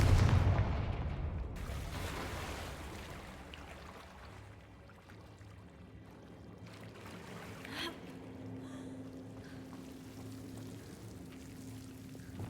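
A Confringo fire spell is cast in the video game Hogwarts Legacy, a loud booming burst at the start that decays into a low rumbling tail, followed by quieter ambient game sounds and a faint hum.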